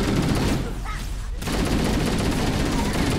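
Loud, dense gunfire from the shooter game Halo: Combat Evolved Anniversary. Rapid overlapping shots fill the scene, briefly thin out, then surge back for the rest of the moment.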